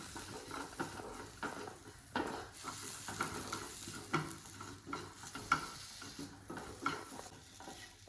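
Chopped ripe tomato is stirred in a pan for a fish curry, with a spoon scraping and clinking in an uneven rhythm over a faint, steady sizzle, fairly quiet and close.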